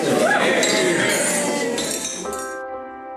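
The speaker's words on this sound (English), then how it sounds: "would everyone please raise a glass and join me in cheers to Joe and Haley" Glasses clinking during a wedding toast, a bright cluster of overlapping chinks amid crowd chatter and cheering, ending in a clear ringing glass tone that fades out.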